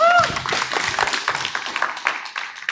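Audience members clap for a presenter at a Black Belt Food Corridor talk. The clapping is scattered and uneven, with a brief tone at the start, and it tapers off over a few seconds.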